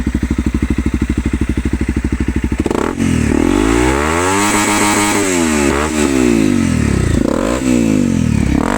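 A 2016 Honda CRF 250 M motorcycle engine idles with a rapid steady putter, then revs hard and loud close by, rising and falling in repeated high-pitched bursts.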